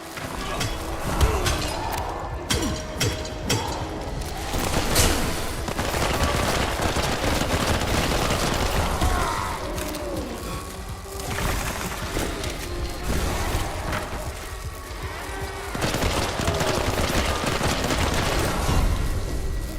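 Rapid bursts of automatic gunfire from a video game rattle on nearly continuously, with heavy booms and explosions mixed in, loud and dense with only brief lulls between volleys.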